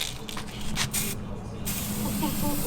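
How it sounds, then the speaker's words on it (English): A rattle can sprays paint in short hissing bursts, with a brief pause between blasts, close and fairly loud, followed by a longer steady hiss. "that's not how you properly spray a rattle can"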